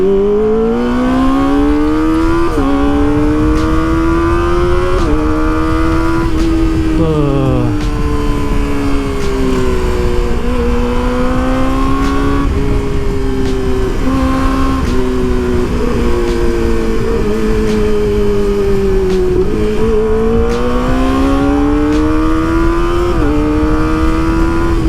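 A Kawasaki ZX25R motorcycle fitted with a dB killer in its exhaust rides along a road, its high-revving four-cylinder whine rising and dropping through repeated gear changes, loud and close throughout with no talking.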